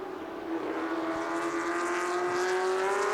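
Ford GT40 race car on the Silverstone Grand Prix circuit, its engine droning steadily as it passes at a distance, with a rising pitch and no talk.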